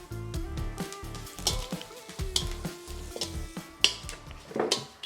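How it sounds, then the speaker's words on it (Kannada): Byadagi chillies, coriander seeds and curry leaves fry in a pan, a steady close sizzle broken by repeated scraping stir strokes and light metallic clinks, with no talking. "ಬ್ಯಾಡಗಿ ಮೆಣಸು ಫ್ರೈ ಆಗಿದೆ"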